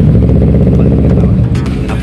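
A Kawasaki Z650 motorcycle engine runs after the alarm is unlocked, a loud close idle with a low steady rumble throughout.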